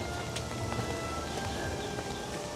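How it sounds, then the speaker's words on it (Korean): Rain falls steadily at an outdoor historic battlefield site, a dense soft hiss of drops pattering on surfaces with no voices. "비가 오는 것도 나름 괜찮은데?"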